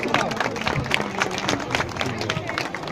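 Crowd applause and clapping fill an outdoor town square during a carnival ceremony for the mayor, a steady dense clatter of many hands with murmuring voices underneath throughout.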